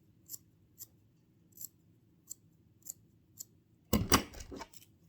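Scissors point-cutting hair during an at-home layered haircut, a few light, evenly spaced close snips followed by a louder, denser burst of cutting near the end.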